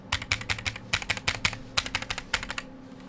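Rapid keystrokes clatter on an Iris split keyboard build, each press sharp and rattly, in quick irregular bursts heard up close with no talking.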